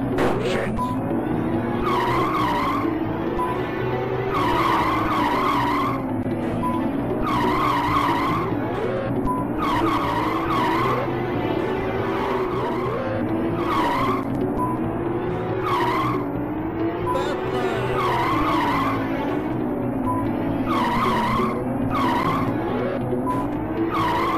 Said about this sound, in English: the best engine, which will mean revving all over the place and we don't have any grip on the surface